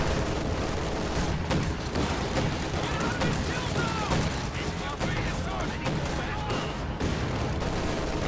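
Dense, continuous gunfire and distant explosions in a WWII strategy video game battle, rifle shots and bursts overlapping steadily throughout at an even, loud level with a background of battle noise.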